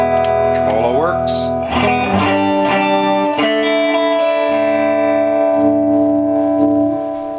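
A Traynor YGM-3 guitar amplifier with its tremolo engaged and reverb off, sustained electric guitar chords pulsing in volume, loud and close, with no talking.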